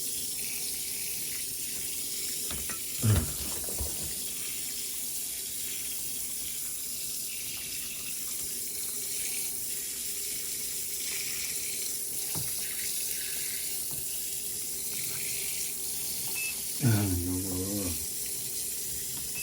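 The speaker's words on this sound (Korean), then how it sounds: "물을 넣고 양이 많네요 한번더" Water runs from a tap into a sink or container as it is filled, a steady close stream with a brief louder splash near the start and another toward the end.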